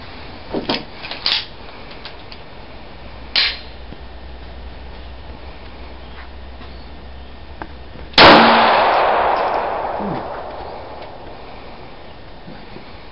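A Taurus PT-24/7 Pro DS pistol fires at an outdoor shooting range: a few sharp, distant cracks early on, then one loud close report with a long rolling echo that fades over several seconds.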